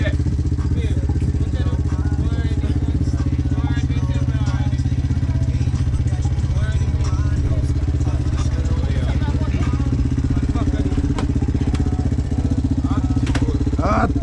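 A personal motorbike's engine runs continuously, a loud, close, unbroken drone that lasts throughout, with voices talking over it.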